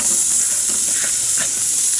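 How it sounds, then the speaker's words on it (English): Onions dropped into a hot pressure cooker sizzle and fry with a dense, steady hiss of steam and spatter, close and loud, lasting about two seconds without pause. "so I'm going to throw in the onions"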